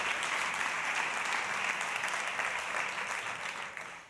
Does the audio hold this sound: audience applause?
yes